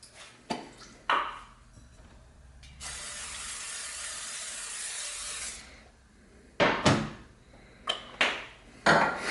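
A long steady hiss of cooking spray into a big pan lasts several seconds, framed by sharp clinks and knocks of the metal pan being handled nearby.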